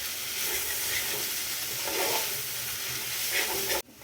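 Ground tomato sizzles and sautés in a pan of prawn gravy with a steady hissing fry and occasional stirring, close and moderate in level. A sharp clunk comes right at the end.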